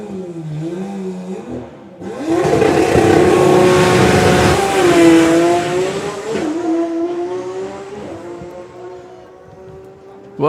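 A turbocharged Pro Mod drag racing car launches and accelerates at full throttle, a loud, sustained engine roar with rising harmonic pitch and shifts lasting about eight seconds, starting abruptly after a quieter idle.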